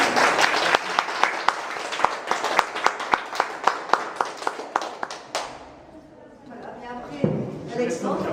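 Audience at an art exhibition opening applauds with sparse, distinct claps that ring out clearly for about five seconds, then die away as a speaker starts talking in a quiet room.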